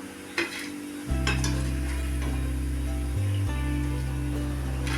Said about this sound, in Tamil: நல்லா கோல்டன் கலர் ஃப்ரை ஆகி வர வரைக்கும் திருப்பி திருப்பி விட்டுக்குங்க